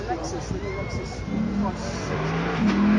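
A sports car's V8 engine revs and climbs in pitch, a throaty roar building over a few seconds while a voice talks over it.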